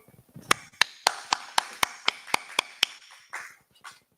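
About a dozen sharp, evenly spaced hand claps from a small group, loud and close, with a fainter scuffle or murmur after they stop.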